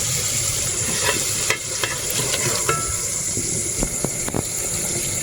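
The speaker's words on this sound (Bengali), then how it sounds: "এবারে ভেজে রাখা ডিমগুলো দিয়ে দেবো।" Fried eggs go into a spiced egg curry with a little water in the pan, a steady bubbling sizzle broken by several sharp spoon scrapes and knocks against the pan.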